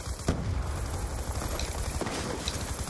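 A multiple grenade launcher fires in the Black Ops 2 video game, with dense, booming bursts and sharp reports over continuous rumbling battle noise.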